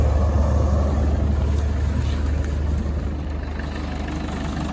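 A 1994 Land Rover Defender 110 with a 300Tdi diesel engine idles smoothly, a steady, close, low rumbling drone with an even clatter that stays constant throughout, no voices.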